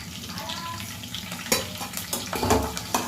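Green chillies drop into hot oil in a home kitchen and are stirred. Sharp sputtering sizzles and crackles burst up close, mixed with the clink of a ladle scraping the pan.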